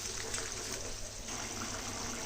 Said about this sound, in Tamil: தண்ணி ஒரு டம்ளர் ஆட் பண்ணிக்கோங்க.